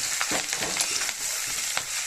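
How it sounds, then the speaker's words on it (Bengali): Chopped ginger and green chilli fry in a hot pan, a steady close sizzle broken by soft scraping stirs of a spatula. "এরপর দিয়ে দিলাম স্পেশালে আদা কুচানো আর দিলাম একটু লঙ্কার কুচানো দিয়ে ভালো করে একটু ভেজে নেব"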